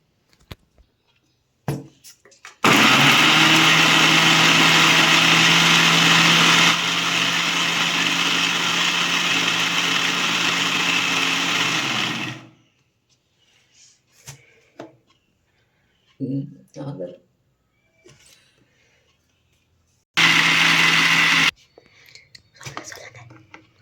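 A kitchen mixer grinder blends mango with jaggery powder for a milkshake. It gives a loud, steady motor whine for about ten seconds, then goes quiet with light clinks, and ends with a second short burst of grinding.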